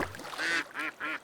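Three short, nasal duck quacks in quick succession, fairly faint and close together, at an air gun and laser shooting range.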